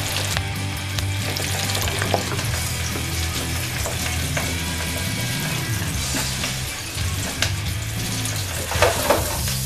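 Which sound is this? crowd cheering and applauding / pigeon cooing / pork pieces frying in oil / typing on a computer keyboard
pork pieces frying in oil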